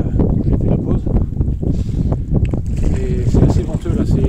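Gusty wind buffets the microphone on a lake during a canoe trip on the Müritz in Germany, a loud, rough rumble filling the clip, with someone talking over it.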